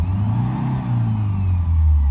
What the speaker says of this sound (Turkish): Rölantide böyle bir sayma oluyor. İleri geri düşme oluyor. Gaz verelim.